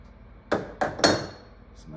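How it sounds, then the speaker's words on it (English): A crescent wrench knocks against the fitting of an acetylene regulator on a brazing torch setup, giving three sharp close metallic clanks within half a second, followed by a faint lighter tap. "So I'm going to take our crescent wrench and tighten that acetylene or oxygen"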